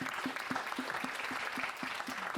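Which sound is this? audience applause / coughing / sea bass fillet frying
audience applause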